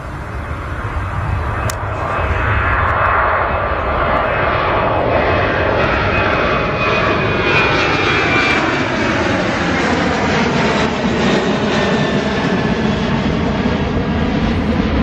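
Fiji Airways airliner landing at Christchurch Airport, a loud, continuous engine roar with a slowly shifting whine as the plane passes close by, with no talk.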